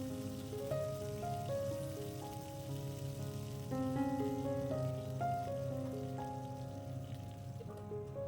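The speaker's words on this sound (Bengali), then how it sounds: "দেখুন, সব বেগুনগুলো আমি একবারে ভেজে নেব।" Thin eggplant slices fry in hot oil in a pan, giving a faint, steady crackle and sizzle that runs throughout with a low hum beneath and no voices.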